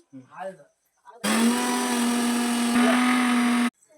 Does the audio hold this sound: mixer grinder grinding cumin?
yes